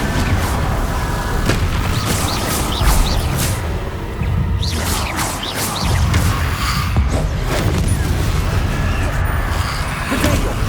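Confringo fire spells in the video game Hogwarts Legacy burst in a dense run of loud booms, thuds and whooshing blasts, one after another over about ten seconds.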